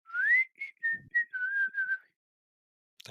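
A person whistles a short, awkward tune: a rising note, then several brief separate notes and a longer wavering phrase, clear and close, followed by silence and a faint noise at the end.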